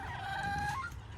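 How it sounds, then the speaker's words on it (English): Bantam hens and roosters on a homestead cluck nearby, with a drawn-out warbling call rising over low ambient flock noise in a short burst. "a bunch of mainly bantam hens that were all hatched last fall"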